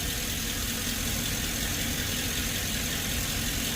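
Car engine idling after a dead ignition coil and worn spark plugs were replaced, a steady, even broadband rumble heard close and continuously with no talk over it.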